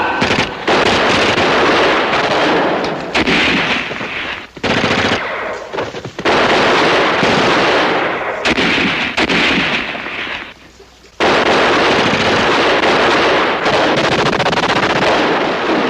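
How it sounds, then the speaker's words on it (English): Sustained automatic gunfire in a wartime battle, loud and dense bursts of machine-gun fire with a few brief pauses, the heaviest volley resuming near the end. "There's too many of them. Keep firing!"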